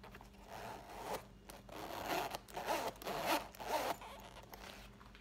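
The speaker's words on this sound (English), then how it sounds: "It has a great zipper." The zipper on a Coach mini bag is pulled back and forth several times, each close, soft rasping run separated by short pauses, with no talking over it.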